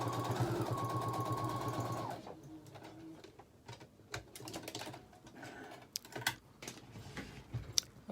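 A sewing machine on a face mask seam whirs steadily for about two seconds while back stitching, then stops, followed by faint scattered clicks and taps of handling fabric.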